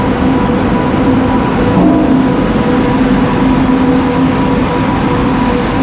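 An Indian railway locomotive engine sits at a station on a Hyderabad to Kottayam route, giving off a loud, steady rumble and hum that holds for the whole stretch, with no voices.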